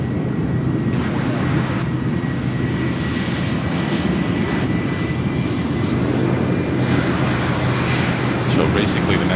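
A large airliner roars past at Louisville International Airport, a loud, sustained engine rumble that holds steady throughout and swells slightly near the end, with spotters talking over it.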